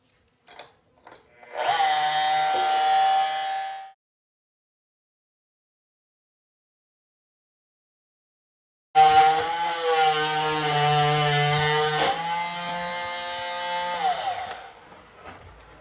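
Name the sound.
reciprocating saw on a pole cutting a fitting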